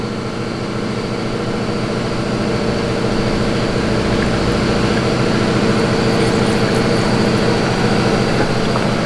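A hot rod engine mounted in a canoe runs steadily with a droning, even rumble, loud and close, holding constant throughout without speech.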